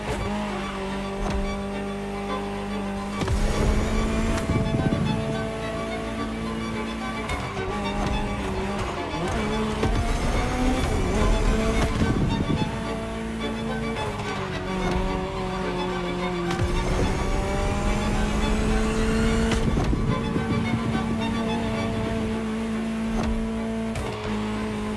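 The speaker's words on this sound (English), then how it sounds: "Just listen to the car you're driving." A Ferrari supercar engine in The Crew Motorfest drones and shifts pitch steadily throughout, with tonal revving rising and falling, mixed with a synthetic game-like soundtrack texture.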